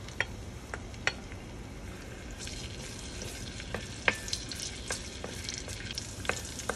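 Garlic, onion, scotch bonnet pepper and thyme sauté in a pan with a steady soft sizzle, broken by occasional sharp clicks and scrapes of stirring spread across the clip.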